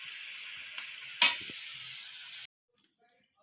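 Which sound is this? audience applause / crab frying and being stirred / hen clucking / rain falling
crab frying and being stirred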